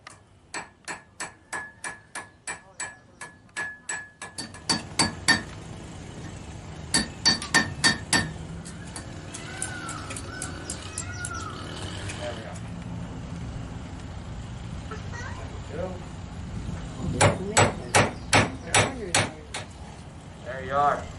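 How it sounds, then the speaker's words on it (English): A blacksmith hammering out a nail, sharp ringing strikes in quick rhythmic bursts with pauses between, a faint voice and background noise in the gaps. "Right now we're going to watch a blacksmith make a nail."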